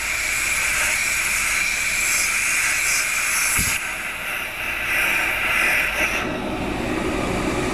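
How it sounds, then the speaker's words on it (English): Walnut media blasting through a tube onto carbon-fouled direct-injection intake valves, a loud continuous close hiss with a brief thump partway through and a slight dip in intensity before it resumes. "You see the walnut media flowing through the tube right here."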